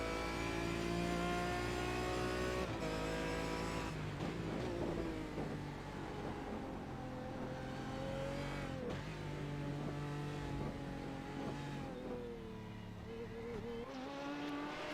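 A sports race car screams down the straightaway heard from on board, its engine revving high and loud with upshifts marked by brief dips in pitch, continuous and close throughout.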